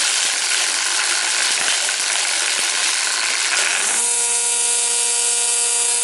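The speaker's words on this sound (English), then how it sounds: "now we'll just fire it up and it should auto cut itself" A Stihl FSA 85 battery trimmer runs loud and close, with a rough whirring clatter of its line auto-cutting that settles into a steady high-pitched electric motor whine.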